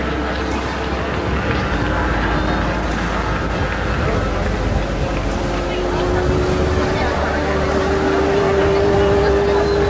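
Racing cars run on an Indian motorsport track, their engines a steady, loud roar with a rising whine from a passing car near the end, heard under a commentator's voice.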